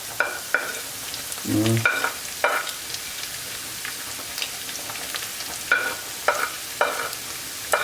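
Minced meat with paprika and garlic is stirred in a sizzling pan, with steady frying hiss and repeated scraping strokes of the utensil, close and clear, and a brief spoken word.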